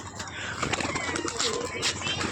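A male pigeon, white with black patches, coos softly and repeatedly, up close, with faint rustling in the background.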